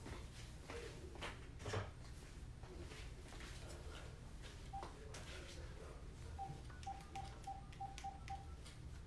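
A house phone being dialed during a live craft demo at home, a run of short evenly spaced keypad tones near the end over a steady room background, with brief speech and faint handling noise earlier.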